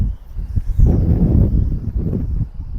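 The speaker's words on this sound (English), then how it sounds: "I think that's wind." Wind buffeting outdoors while fishing with squid bait, a steady rough low rush that swells and eases, with faint rustling underneath and no clear talk.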